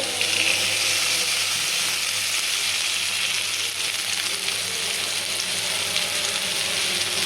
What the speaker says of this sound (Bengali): এইখানে আমি কড়াই দিয়ে দিছি, পেঁয়াজও দিয়ে দিছি।